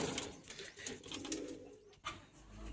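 Soft, low coos of high-flying pigeons repeat close by in a quiet space, with a faint voice in the background.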